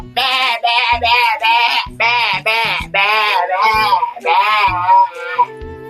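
A man imitates a goat, voicing a string of loud, close, wavering bleats in quick succession, each a nasal, quavering cry with short gaps between.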